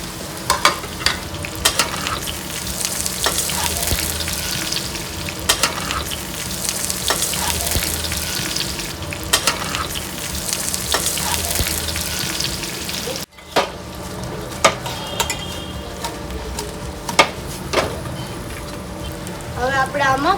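Steamed patra rolls fried in a hot tempering of curry leaves, asafoetida and sesame seeds give a steady loud sizzle with stirring scrapes throughout, a brief break midway, then more sizzling and clatter.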